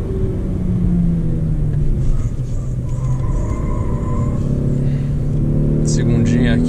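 Jeep Renegade 1.8 manual from 2018 on track, engine droning steadily while braking and downshifting from third with heel-toe, tones shifting as revs change, with a brief higher-pitched noise near the end.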